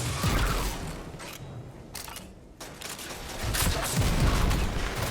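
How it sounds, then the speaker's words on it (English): Grenade launcher fire in the Destiny 2 Legend Lost Sector The Quarry, heavy booming blasts and explosions in quick succession alongside mechanical clatter, loud and close with no talking. "At this point, we can switch back over to the Grenade Launcher."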